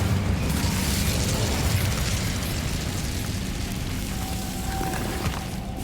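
A fire spell blasts in Hogwarts Legacy, a dense, continuous roaring whoosh of flame with crackling texture, loud and sustained throughout without speech.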